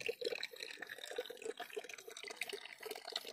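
Overflow water from a water tank runs steadily into a trough where cattle drink, a continuous close trickling and splashing with no talk.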